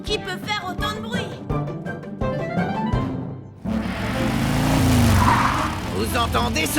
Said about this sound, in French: Vous entendez ce moteur qui ronronne?